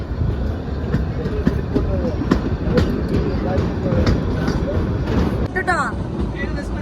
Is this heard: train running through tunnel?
yes